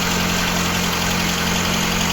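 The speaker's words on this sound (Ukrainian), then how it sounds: "Перший пуск. Моторчик не троїть, працює хорошо." A VAZ car engine fitted with a 1118 1.6 cylinder head in place of the original 21083 1.5 head idles at its first start, running steady and smooth with a close, even hum and no other sounds.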